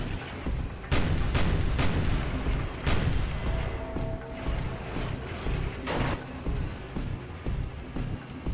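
Cannon fire in the Rogue Trooper video game (2006): several heavy booming shots ring out at irregular intervals over a dense, rumbling battle din with mechanical clatter.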